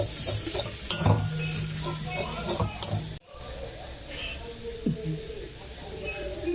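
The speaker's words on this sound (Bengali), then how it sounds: "জিরে ভাজা গুঁড়ো আর ধনে গুঁড়ো দুটো আমি দিয়ে দিলাম দিয়ে এটা আমি ভালো করে কষে নেব" Roasted ground cumin and coriander powder being stirred in a hot pan, with soft sizzling, scraping spoon strokes and occasional clinks of metal on the pan, a brief pause midway, then renewed stirring.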